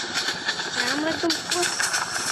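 Rumbling, hissing train noise in a Bangladesh train simulator game, a steady mechanical run with a voice talking over it.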